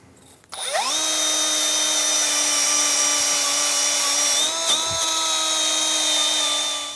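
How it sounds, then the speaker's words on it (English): A powered wire brush spins up and runs at a steady high-pitched whine for about six seconds, close and alone, cleaning the inside of a front wheel hub on a 2003-2007 Infiniti G35. "I'm going to use a wire brush and clean all inside of here and clean the face of this."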